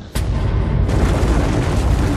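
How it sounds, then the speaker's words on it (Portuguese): Supernova explosion effect in a science documentary: one sudden loud boom that swells into a sustained, roaring rumble, dense and powerful, with no voices. "quando acontece fazem kabum! E explodem em 1000 pedaços."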